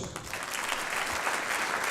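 A concert audience applauds the band after a performance, a brief burst of steady, dense clapping at moderate loudness, heard alone.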